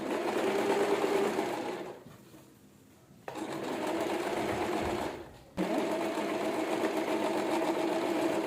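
Sewing machine stitches folded fabric in quick, steady runs, whirring loudly with two brief pauses between bursts, close up and without talk.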